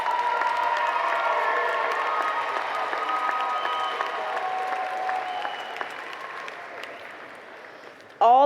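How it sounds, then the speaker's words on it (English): A crowd at a commencement ceremony gives a steady round of applause with some cheering, sustained and even for several seconds before tapering off, ending abruptly with a voice. "Graduates, give your support team a round of applause."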